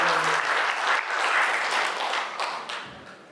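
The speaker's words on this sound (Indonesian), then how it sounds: "Boleh dong tepuk tangan dong buat Pak Arja." Church audience applauding a parish service coordinator at a parish work meeting, a dense, steady burst of many hands clapping for over three seconds, fading slightly toward the end.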